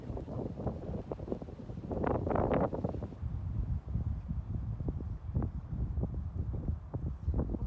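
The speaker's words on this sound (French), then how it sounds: "il y a trop de vent" Strong wind in Seoul buffets the microphone with a continuous rough roar, gusting louder midway.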